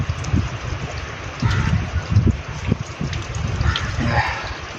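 Natural spring water flows steadily in an outdoor setting, a continuous trickling, gurgling wash with a few louder surges, close by and alone.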